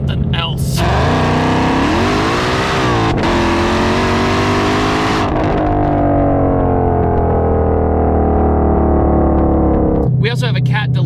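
A 2020 Shelby GT500 with a cat delete roars loudly up close, its exhaust revving and rising in pitch, easing off, then cutting out before a short final blip.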